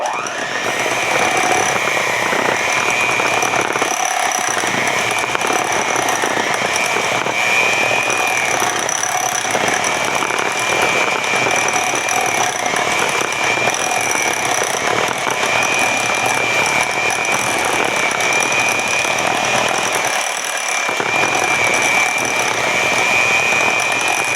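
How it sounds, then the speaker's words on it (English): Bread ingredients being mixed together: a steady, loud mechanical whirring and clicking runs continuously for over twenty seconds, close by and with no talking. "all you're going to need to do is mix it together a little bit"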